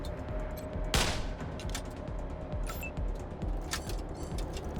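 Bursts of gunfire in the turn-based combat game Wasteland 3, a sharp loud crack followed by a scattered series of quieter shots and impacts over a steady game backdrop.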